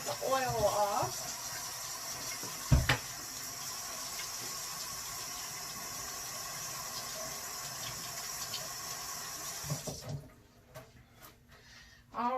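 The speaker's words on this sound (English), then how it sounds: "let me wash my hands real quick to get the oil off" A kitchen tap runs steadily while hands are washed to get oil off. A continuous hiss of flowing water lasts about ten seconds, with a brief knock partway through, then quieter splashes and drips once the flow stops.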